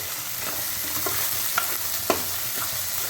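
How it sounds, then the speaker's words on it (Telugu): Soaked chana dal being stirred in a hot, sizzling pan for a ridge gourd curry. A steady frying hiss runs under the stirring, with a few sharp scrapes and taps of the spoon against the pan, and no voices. "ఇప్పుడు దీంట్లో వేసేద్దాం. ఇది మొత్తం ఒకసారి కలుపుకుందామండి."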